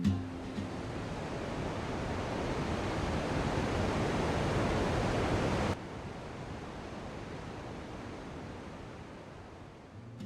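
Umkrem Falls in Meghalaya, swollen after heavy rain, roars as a dense, steady wash of rushing water with no voices; it holds loud for about six seconds, then drops abruptly to a softer but continuous rush.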